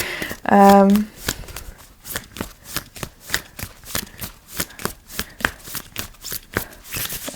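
Tarot cards shuffled by hand during a pick-a-card reading, giving a steady run of quick, close riffling snaps after a short tonal chime near the start, loud and continuous with no talk over it.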